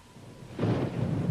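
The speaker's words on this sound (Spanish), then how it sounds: "Hubo una gran tormenta en el desierto de los alrededores de Roswell." Thunder in a summer desert storm near Roswell, New Mexico, opens as a low rumble that swells into a loud, sustained roll lasting through the rest of the moment, with no voices.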